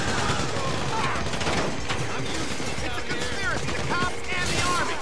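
Dense gunfire rings out in the video game Grand Theft Auto V during a heavily armed bank heist, continuous overlapping shots and bursts with crashing impacts filling all five seconds at steady loudness, with voices in the game mixed underneath.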